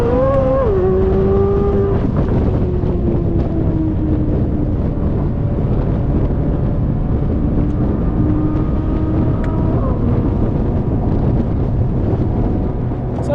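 A Corvette C8 Z06 fitted with a Soler throttle body pulls onto a highway, its engine loud and close, pitch sliding up and down through gear changes over steady road and wind roar.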